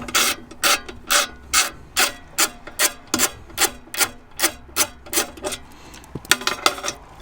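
A ratchet loosens a 10 mm bolt on a Honda Integra Type R DC5, giving a quick regular series of about sixteen sharp clicking strokes, close and distinct, with a short pause before a final flurry.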